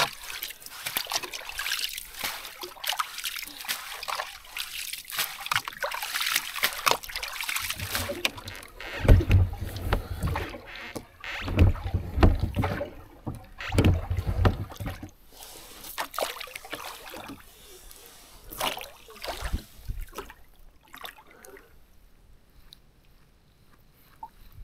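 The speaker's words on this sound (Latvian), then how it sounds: "jāizsmeļ ārā ūdens no laivas" Water being bailed out of a rowboat on a lake, with irregular splashes, scoops and trickles of poured water, plus knocks against the boat, close by and without talk.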